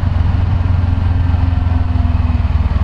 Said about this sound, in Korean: 야, 이제 엔진음이 들리네.